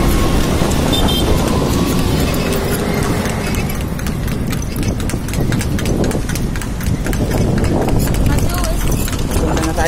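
A horse pulling a kalesa at Rizal Park, its hooves clip-clopping in a steady quick rhythm under a rumbling ride and nearby voices talking.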